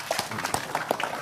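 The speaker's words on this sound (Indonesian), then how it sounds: "Tepuk tangan untuk kiai kita ya." Brief burst of audience applause for a kiai at an Islamic gathering, scattered claps rising and falling over about a second, fairly close and loud.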